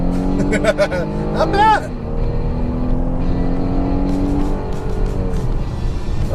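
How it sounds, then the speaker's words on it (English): A 2015 midsize sedan launches hard from a standstill to 60 mph, tires spinning briefly as the engine revs climb and drop through a gear change, then pulls steadily onward; someone speaks briefly over the engine. "Okay, there was some wheel spin."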